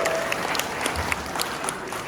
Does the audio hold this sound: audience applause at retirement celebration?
yes